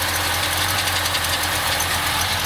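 A 1951 Chevrolet 3100 pickup's Chevy 5.7 small-block V8 with an Edelbrock carb and straight pipes with cherry bombs idles with a deep, lumpy rumble, steady and continuous, heard up close without any voices.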